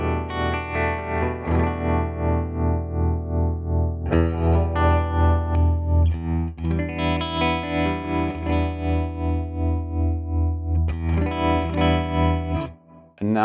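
Electric guitar played through a Tone King Imperial MKII amp preset, chords and notes with a warm, modulated, pulsing tone that wavers steadily, close and full, heard alone with no talking.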